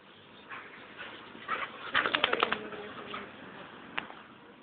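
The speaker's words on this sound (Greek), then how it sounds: "Ναι παίζουν, τα σκυλιά είναι." Dogs at play give short whimpers and yips, with a cluster of sharp yelps in the middle and a lone yip later, fairly faint against background ambience.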